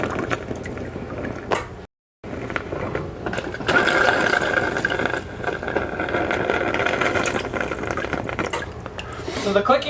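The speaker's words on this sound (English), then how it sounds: "So the clicking you hear is the actual water regulator." Water flow regulator on a laser engraver cutter with a CW-5000/CW-5200 water chiller clicks repeatedly amid mechanical rattling and liquid sounds, moderately close, with a brief dropout early on.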